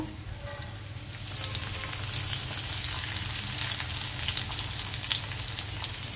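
Seasoning seeds and garlic frying in a pan of hot oil for a bitter gourd fry, heard as a dense, continuous crackling sizzle up close that swells slightly and holds steady with faint stirring.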